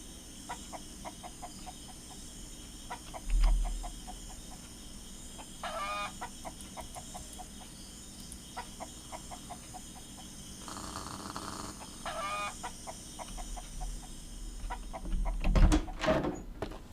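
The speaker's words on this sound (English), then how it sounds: "And the clucking that will never stop." Chickens in the survival video game Mist Survival cluck in a repeated rhythmic series, fairly faint and steady throughout, with a few louder bumps and a sharper burst near the end.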